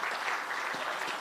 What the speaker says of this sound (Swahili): Let's clap for her. She comes forth, ladies and gentlemen.